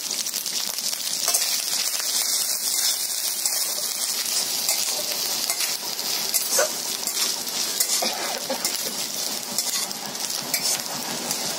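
Grated coconut fries with whole garam masala in a pan, giving a steady, close sizzle with scraping stirs and occasional clinks of the utensil against the metal. No one speaks.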